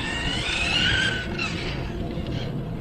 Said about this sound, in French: Donc, par contre la transmission elle est relativement bruyante. Comme tu peux l'entendre.